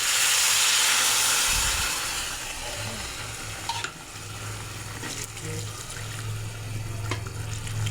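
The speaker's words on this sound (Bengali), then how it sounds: "এখন গরম জল দিয়ে দেব।" Hot water goes into a chicken stew pot, a loud rushing pour at first that settles into a bubbling sizzle with faint clinks.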